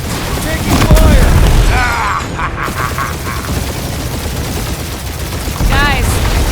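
Gunfire erupts in a Guardians of the Galaxy action game on PS5, loud booming shots and rapid bursts layered over heavy rumbling combat noise and music, with chattering voices partly woven through the din.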